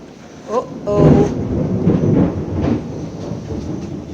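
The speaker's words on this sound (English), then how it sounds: "Thunder, Brian." Thunder rumbles outside a cottage with capiz shell windows, a low rolling roar lasting several seconds and building then fading, heard through the room alongside faint voices.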